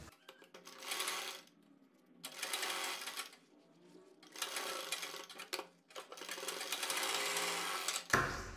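Sewing machine stitching a strip of fabric onto a sleeve, running in three or four steady bursts with short pauses between, close and clear with no talk.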